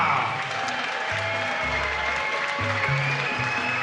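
An arena crowd applauds both fighters after the first Hex title fight between Senzo Ikeda and Charlie Alaniz, a sustained, even wash of clapping under music tones, with no pauses.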